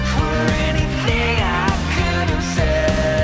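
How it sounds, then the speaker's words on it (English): Music with a thick bass line and a steady, evenly spaced kick drum on every beat, melodic tones sliding above. "4 on the floor with the bass drum"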